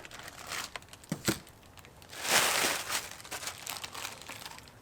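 Crinkly plastic packaging rustles and crackles around new Depot aftermarket taillights for a Toyota Tacoma as they are unboxed, with scattered crunches and one louder, longer crinkle midway, close and fairly quiet.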